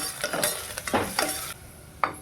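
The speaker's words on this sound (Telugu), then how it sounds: "ఇందులోనే కరివేపాకు కూడా వేసుకొని వేయించుకోవాలన్నమాట." Crushed garlic and curry leaves frying in oil in a pan, a close crackling sizzle punctuated by a few sharp spatula strokes and scrapes, then settling into a quieter hiss with one final clink.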